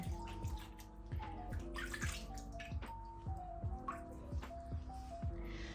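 Water splashes and drips as hands are wetted under a running tap to emulsify makeup remover, a steady close trickle with repeated soft splashes.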